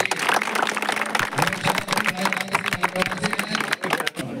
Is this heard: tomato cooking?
no